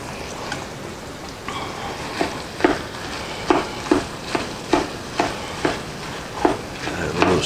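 Onions sizzle and crackle in a hot pan alongside plant-based meat for enchiladas, a steady close frying hiss punctuated by regular scraping stirs of a utensil, with no talking.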